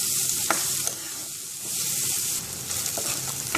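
Onions with curry leaves sizzle in a pan while a spatula stirs them, giving steady frying hiss broken by several scraping strokes, close and fairly loud, with no voices.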